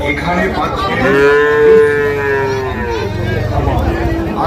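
Sahiwal bull calves at a cattle market, one long, loud, close moo rising and falling over several seconds, with crowd chatter and market noise around it.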